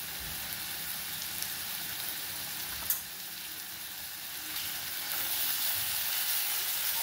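Coriander thecha with red chili powder sizzles steadily while being sautéed in a pan, an even, close frying hiss with a brief stirring clink partway through and the sizzle swelling slightly toward the end.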